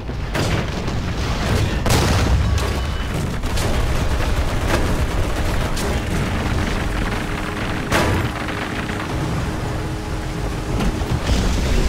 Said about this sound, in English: They dropped the bomb on me, baby.